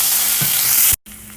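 Pureed garlic and ginger sizzle loudly in a hot pan as they are stirred, a steady hissing fry with a brief scrape, then a sudden cut to quieter sizzling.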